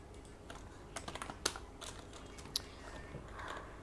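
Code being typed on a computer keyboard, a quiet irregular run of close key clicks with a couple of louder taps, alone without speech.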